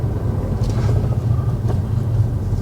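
A car accelerating during a driving lesson, heard from inside as a steady low engine rumble with road noise that holds level throughout, with no talk over it.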